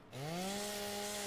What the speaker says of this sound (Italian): motosega